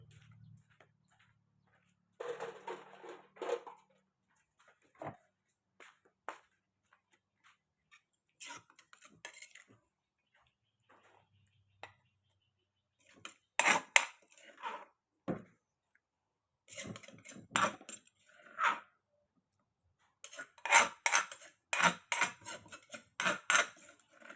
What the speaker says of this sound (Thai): เดี๋ยวล้างสาก